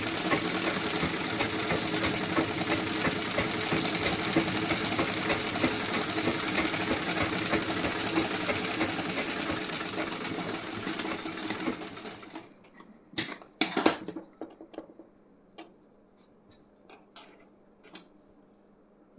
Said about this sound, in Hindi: अब एक सिलाई यहाँ पे और मैं लगाऊंगी इस तरीके से।